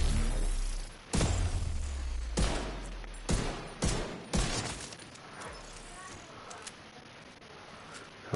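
Rifle fire in The Division 2 video game, a handful of sharp, loud single shots spaced a second or so apart over a muffled background.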